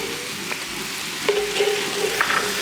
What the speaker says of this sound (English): Turn up our heat a little bit because we got our garlic going in.